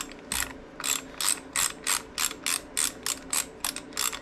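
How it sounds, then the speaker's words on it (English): A ratchet with a quarter-inch Allen socket working a bolt loose on a Harley-Davidson Sportster, with a steady series of about a dozen close, crisp ratcheting clicks in even back-and-forth strokes and no talking. "Take this quarter inch Allen here. Get your ratchet to work properly. Break that bolt free."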